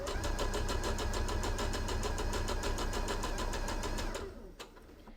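A sewing machine stitching felt runs at a steady fast rhythm, loud and close, its motor humming under rapid needle strokes before it slows and stops near the end, followed by a couple of small clicks.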